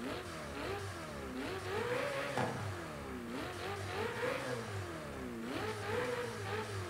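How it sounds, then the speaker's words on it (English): A Ferrari 488 Challenge race car in Forza Horizon 5 revs repeatedly, its engine note climbing and falling in several loud, steady surges with no talking. "now we're going to turn on the vehicle and see how it sounds."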